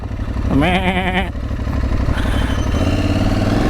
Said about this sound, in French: Salut les chèvres.